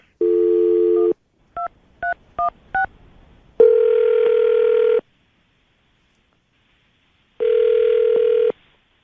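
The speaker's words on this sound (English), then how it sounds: "We're going to call her right now, see if we can get her on the phone" A telephone call placed from a radio studio: a dial tone, then a quick run of four keypad tones, followed by two long, loud ringback tones separated by a pause.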